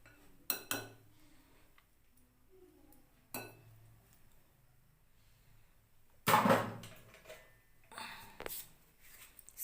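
A spoon clinks against small bowls while banana cake batter is portioned out, with a few separate sharp clinks and taps spread apart amid quiet kitchen handling and one louder scraping clatter.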